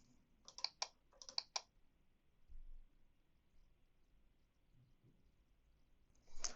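A new Wi-Fi password goes in on a computer keyboard: two quick bursts of crisp key clicks, then a quiet pause and one last soft tap.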